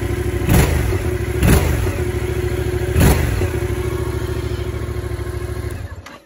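A cold motorcycle engine, not yet warmed up, idles loud and close with a rough, pulsing beat, broken by a few heavier thumping revs and clattering knocks.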